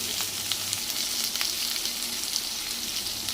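Sliced onions and turmeric powder frying in a pan for an egg fry dish, giving a dense, steady sizzle and crackle that carries on evenly throughout with no voices.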